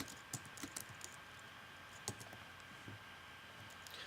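Soft, sparse keystrokes clicking on a computer keyboard while code is typed, a handful of light taps scattered over a few quiet seconds.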